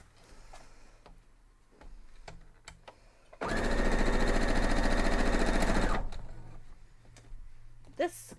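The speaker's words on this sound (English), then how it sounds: "Let's head over and sew these up." A sewing machine runs steadily for about two and a half seconds while stitching strawberry patch quilt block pieces, a loud continuous mechanical whir that starts and stops abruptly, with quieter handling noises before and after.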